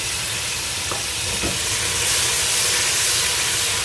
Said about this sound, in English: So what you can do is add in the meatball gently.